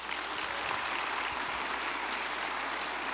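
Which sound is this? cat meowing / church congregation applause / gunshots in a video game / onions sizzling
church congregation applause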